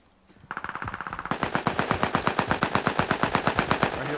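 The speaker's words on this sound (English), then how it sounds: "Taking heavy fire." Machine gun fire rattles in rapid, evenly spaced bursts on the Caldera map of a video game, loud and sustained for several seconds with no speech over it.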